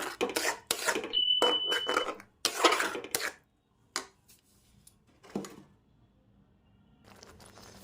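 Punjabi-style methi curry with yogurt and fenugreek leaves stirred in a pan, with scraping and clattering utensil strokes in uneven bursts separated by quiet gaps, close and moderately loud.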